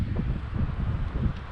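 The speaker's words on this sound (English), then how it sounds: "It's windy." Gusty outdoor wind buffets the microphone in a steady low rumble for a brief moment, with no one speaking.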